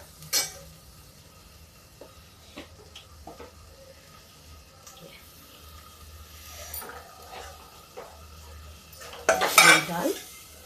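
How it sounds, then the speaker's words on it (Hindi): Masoor dal and tomato masala being stirred and fried in a pan, with soft sizzling, scattered spoon clinks against the metal and a louder burst of scraping and frying near the end. "अब इस मसाले को हम थोड़ा भूनेंगे इसी दाल के साथ।"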